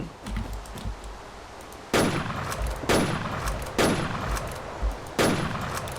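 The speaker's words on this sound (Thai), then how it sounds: "โอ้เมื่อกี้เสียงปืนเกิดขึ้น" Gunshots in the video game MineDayZ: four loud, sharp reports spaced about a second apart, each with a quick decaying tail, over a quieter background of clicks and soft game noise.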